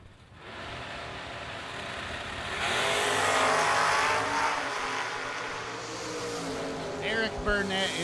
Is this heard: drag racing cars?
yes